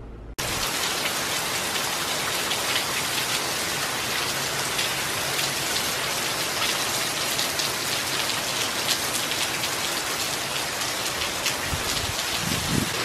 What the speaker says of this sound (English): The rain is just like flying out of the gutters.